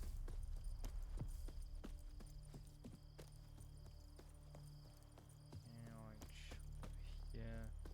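Horse hooves clop in a steady, rhythmic gait while riding in The Witcher game, quiet and close against faint crickets, with someone talking over the later part.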